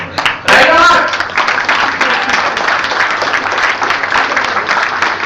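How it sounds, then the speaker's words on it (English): An audience at a motivational talk breaks into applause, a dense wash of clapping hands that swells after a brief pause and holds steady throughout, with voices mixed in beneath it. "Clap."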